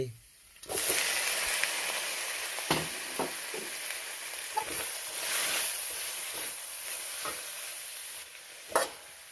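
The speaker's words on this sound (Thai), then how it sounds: "เจียวกระเทียม เอาแค่พอเหลืองนะครับ จากนั้นเทผักใส่" Vegetables stir-frying in a pan just after garlic has been fried golden, a steady loud sizzle lasting throughout with scraping stirs and occasional sharp clatters of the utensil against the pan, no voices.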